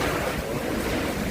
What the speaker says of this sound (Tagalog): Hangin guys, kusog kaya hangin niya.